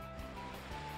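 Water attack effect from the Pokemon Bushido game, a steady rushing surf-like wash of water that fills the whole second at constant, moderate loudness, with no talk over it.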